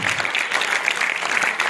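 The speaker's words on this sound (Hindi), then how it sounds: "तो एक बार जोरदार अपने लिए तालियां।" Dense, loud audience applause fills a foundation-day celebration of Lucknow's International Buddhist Research Institute, held by the Culture Department, sustained and even throughout with no voices on top.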